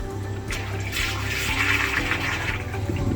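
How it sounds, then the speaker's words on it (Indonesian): Water gushing steadily into the first tank of a wastewater treatment unit at a health clinic, a continuous close rushing splash with no talk. "Ini kucuran airnya bahwa dia sudah mengirim."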